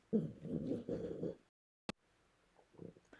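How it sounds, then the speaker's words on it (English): A dog whimpers and growls in a low, throaty run of sounds for over a second, then falls quiet apart from a sharp click and a few soft, faint grumbles near the end, close by in an indoor workspace during acrylic printing. "Sorry for the funny noises my dog makes while I'm recording this."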